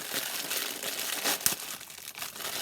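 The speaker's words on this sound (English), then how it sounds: "Now we're going to go ahead and grab decorative shred paper." Pink decorative shred paper crinkles and rustles as it is handled and packed into a DIY party centerpiece, a steady close papery crackle with a few sharper crunches and no talking.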